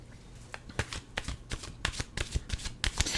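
Tarot cards being shuffled: a run of crisp, riffling flutters and soft slaps in an irregular rhythm, close and fairly loud, with no voices.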